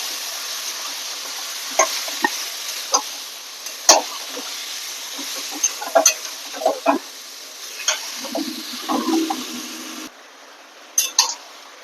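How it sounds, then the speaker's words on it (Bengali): Marinated chicken being stirred in a frying pan, a faint sizzle beneath scattered clinks and scrapes of a utensil against the pan, no voices. "ম্যারিনেট করা চিকেনটা দিয়ে দেবো এবার আমি সুন্দর করে নেড়ে ছেড়ে মিশিয়ে নেব"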